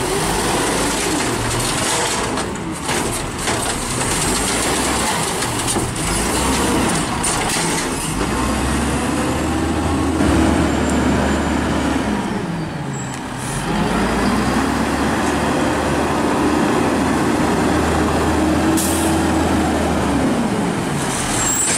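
Garbage truck from Mendo Carts Refuse, an EJ Condor Octos refuse truck, with a loud rumbling engine that rises and falls as it revs, plus air-brake hisses and occasional higher whines, close and dominant throughout.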